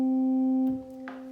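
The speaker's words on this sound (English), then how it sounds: "And the 16-foot sounds like this." A single low note from the 16-foot pipes of a pipe organ holds steady, then cuts off sharply, leaving a brief room tail and faint noise.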